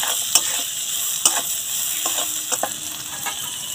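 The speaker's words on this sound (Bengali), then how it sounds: "লবণটা দিয়ে একটু ভালো করে নাড়াচাড়া করে নেব।" Vegetables for mix veg chowmein sizzle and fry in a pan, with a spatula stirring and scraping in a few distinct clacks against the metal over a constant bright hiss.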